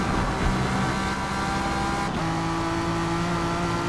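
A race car engine screams at full throttle in Forza Motorsport, loud and sustained with a steady high drone and one shift in pitch partway through, with no other sounds.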